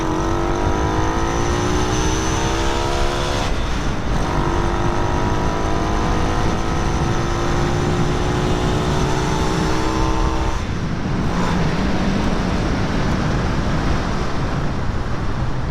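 A Grom clone motorcycle engine fitted with a Nibbi carburetor revs loudly up and down, its buzzing whine rising in pitch with each throttle blip, close and continuous.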